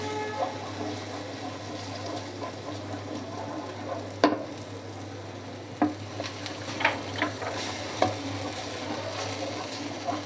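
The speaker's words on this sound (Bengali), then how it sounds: "সয়া সস দিয়ে আমি ভালো করে নেড়ে মিশিয়ে নিচ্ছি।" Momo soup ingredients with soy sauce are stirred and fried in a pan, giving a steady low sizzle with occasional scraping and clinking taps of a utensil, close and moderate in level.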